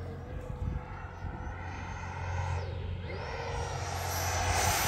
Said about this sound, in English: let's get a full throttle pass right above the runway